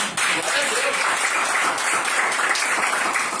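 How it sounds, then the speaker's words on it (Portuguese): A church congregation claps for Jesus during a Sunday service, a dense, even roar of applause filling the room, fairly loud and continuous with a few voices mixed in. "As palmas para o Senhor Jesus."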